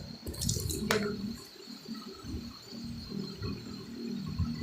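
Water from a tap splashes and trickles as it is poured, with a brief sharp clink early and a continuous, close, moderately loud running-water wash throughout.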